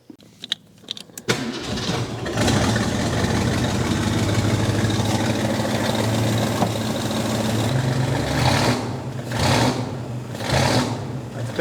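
A junkyard 1966 Ford Mustang V8, fitted with a regular coil in place of a magneto, cranks over after a near-silent start and then settles into a steady, rough-running idle close by, with a few raised-rev bursts near the end.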